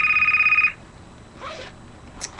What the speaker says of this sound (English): I love when my house phone goes off in my videos.